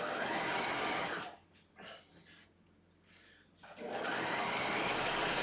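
A sewing machine runs in a fast steady whir while stitching a narrow rolled fabric hem, pausing for a couple of seconds with faint handling sounds, then resuming at full speed close by.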